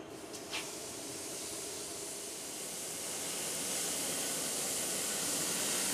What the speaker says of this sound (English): So we'll sear it crispy on the outside, tender on the top.